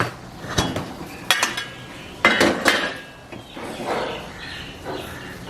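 Metal clanks and clinks as a lid is lifted off an idli steamer pot and the pot is handled, a few sharp close knocks spread across a few seconds with no talking.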